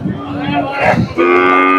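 Kangeyam bulls at the Kundadam cattle market give a loud, close, drawn-out moo that rises and holds, with a second low call following.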